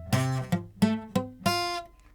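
A guitar F barre chord played badly fretted, strummed five times in a steady rhythm, each strum bright at the attack and then dying quickly and unevenly, close and solo with no talking.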